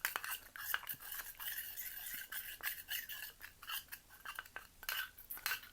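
Spoon stirring a thick homemade face mask of lemon, yogurt and turmeric powder in a small bowl, giving steady soft scraping and clinking close up, with no talk.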